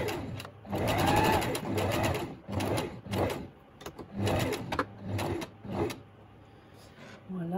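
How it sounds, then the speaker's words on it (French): A domestic sewing machine with a standard presser foot runs a straight stitch along a seam with a 1 cm allowance, whirring in several close, loud bursts separated by short pauses. "j'ai remis le pied standard sur la machine et je me suis mise au point droit"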